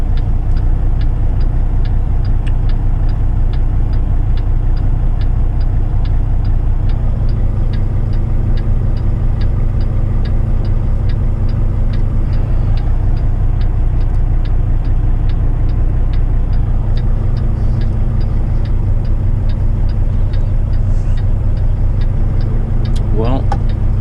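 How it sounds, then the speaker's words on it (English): Cars stream past steadily on a road in Wade, North Carolina, a continuous loud rush of tires and engines up close, with faint ticking throughout. "Whole bunch of cars coming from there."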